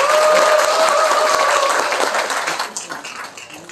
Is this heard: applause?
yes